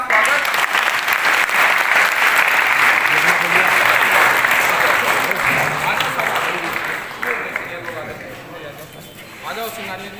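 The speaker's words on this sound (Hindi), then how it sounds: "जोरदार ताली के साथ स्वागत।" Loud, dense crowd applause greets an election observer at a municipal election meeting, sustained for about ten seconds and easing slightly toward the end.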